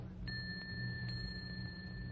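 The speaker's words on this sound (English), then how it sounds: "You know nothing of him but the tinkle of a bell." A small bell tinkles in a radio drama, with a bright sustained ring struck near the start and again shortly after, sounding alone over a low background hum.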